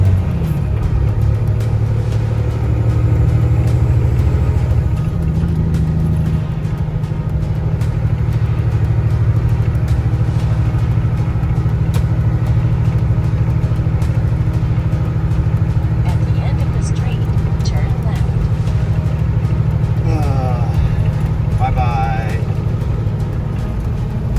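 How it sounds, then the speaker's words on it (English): Cars doing burnouts on an entry road at a Summernats USA car show give a heavy, continuous low engine rumble that stays loud throughout, with occasional higher squeals and revving. People talk nearby over the noise. "Burnouts at Cleet's new entry road."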